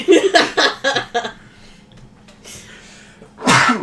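A single sharp sneeze bursts out near the end, close and loud, after a stretch of quick breathy vocal sounds and a quiet pause.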